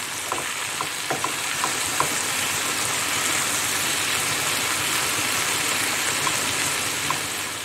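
Three medium tomatoes go into lightly browned onions in a kadhai for paneer, giving a steady, close sizzle of frying with scattered clicks and scrapes of stirring and no one speaking.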